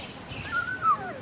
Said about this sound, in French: Oh, les oiseaux